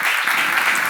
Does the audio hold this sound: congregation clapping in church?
yes